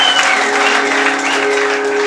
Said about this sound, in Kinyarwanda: Komera Imana amashyi menshi bigereye